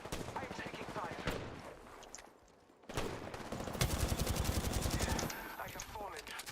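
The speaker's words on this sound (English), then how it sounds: "I'm taking fire." Rapid video game gunfire in overlapping automatic bursts and single shots, loud and close, with a short lull in the middle and a voice speaking faintly beneath the shooting.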